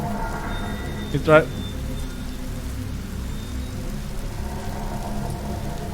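Rain falls steadily in the indie horror game The Shopping List, a constant soft hiss throughout, with a brief sharp chime-like sweep near the start and a voice speaking briefly over it.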